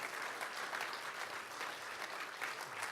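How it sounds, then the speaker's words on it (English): Steady applause from an audience at a political convention panel discussion, a dense, even wash of clapping lasting a few seconds. "Can we get a round of applause for co-partnership?"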